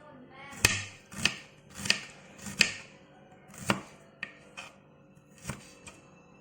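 A knife slices baby squid on a cutting board in a series of about ten sharp, close chops with an irregular rhythm, each a crisp knock against the board, in an otherwise quiet room.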